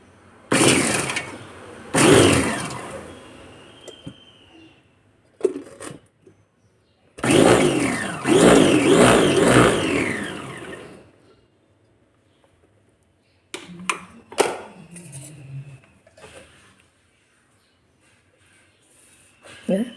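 An electric vegetable cutter chops stemmed spinach leaves in two loud whirring motor bursts, each a few seconds long, followed by shorter clicks and handling noise while a person talks.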